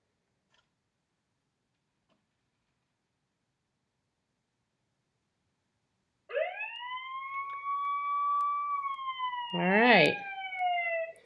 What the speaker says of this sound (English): maybe you'll hear the siren at the end